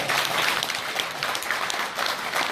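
A lecture audience applauds steadily, with many hands clapping at moderate loudness and no break in the sound.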